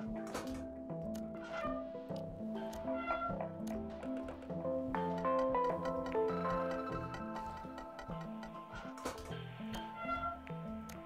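A cat meows repeatedly in the video game Machinarium, its cries riding over a dense, rhythmic electronic music bed that carries throughout.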